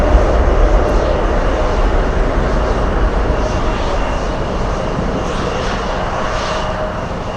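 A Boeing 747 Dreamlifter arriving at Anchorage from Shanghai roars with a loud, continuous jet engine rumble that holds steady throughout, with no voices heard.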